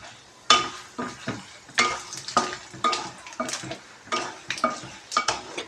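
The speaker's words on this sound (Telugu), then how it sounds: "ఇందులోనే ఒక 1/2 స్పూను జీలకర్ర, ఒక 1/2 స్పూను ఆవాలు కూడా యాడ్ చేసుకోవాలి" Cumin and mustard seeds crackle in hot oil for a kobbari karam tempering, heard as repeated sharp sizzling bursts with small pan and spoon clinks, close and steady, with no talk.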